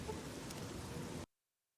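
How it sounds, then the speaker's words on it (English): Steady rain in the video game Fallout 3, a dense even hiss of falling water that runs on unbroken and then cuts off abruptly into silence. "the fact that the rain is going on"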